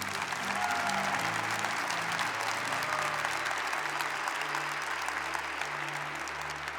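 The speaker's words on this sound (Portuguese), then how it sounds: "Aplauda Jesus com força, então." An audience in a church gathering claps steadily and loudly, a dense continuous wash of applause with a low sustained tone underneath.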